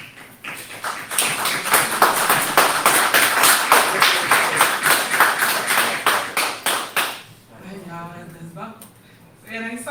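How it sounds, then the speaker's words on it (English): A crowd claps in a public meeting, a sustained round of dense applause for several seconds that tapers off as voices begin talking. "The clap from Henyard is hilarious."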